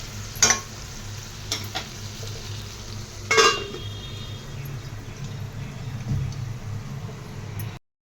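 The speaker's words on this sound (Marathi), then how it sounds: "कांदा परतून झाला आता मी त्यामध्ये टॅमॅटो टाकलेला आहे" Onion and tomato frying in a pan for a dried-fish (sukat) vegetable dish, a steady sizzle throughout with a few sharp clinks of a spoon stirring against the pan.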